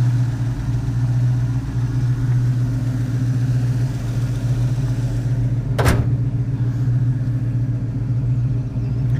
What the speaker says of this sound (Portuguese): O motor é todo original.